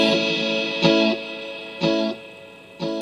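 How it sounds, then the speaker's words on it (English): Eventide H9 effects pedal set to a long delay with 8 seconds of reverb, high reverb and delay levels and nearly 50% feedback, turning three sustained chords into a wide, smeared wash whose repeats and tails hang between attacks. "Now with 8 seconds of reverb and a higher level of reverb and delay."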